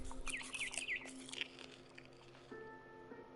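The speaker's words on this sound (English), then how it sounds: "Then I heard chirping outside my window." A barn swallow chirps in the video game What Remains of Edith Finch, a quick run of bright, close tweets followed by a few softer calls over a quiet game ambience.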